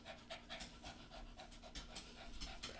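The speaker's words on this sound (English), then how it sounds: "We're going to go pet these dogs." Several dogs pant quietly in a fast, steady rhythm of short breaths, faint and continuous throughout.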